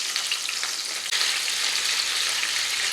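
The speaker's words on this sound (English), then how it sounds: "If it looks like it's frying a little bit too hard, just turn the heat down on it" Country fried steak frying in a pan, a steady, dense sizzle and crackle of hot oil that runs continuously and fairly loud, with a brief dip partway through.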